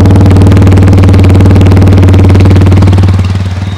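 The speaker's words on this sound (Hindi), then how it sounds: "तो चलिए हम आपको इसके एग्जॉस्ट का साउंड सुना देते हैं।" TVS Apache RTR 160 2V motorcycle exhaust idling close by, a loud steady thumping pulse that holds even, then eases off slightly near the end, with no voices.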